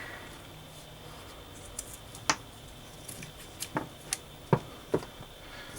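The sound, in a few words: scissors cutting ends of paracord bracelet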